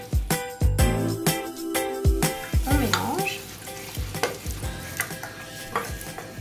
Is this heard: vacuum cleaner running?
no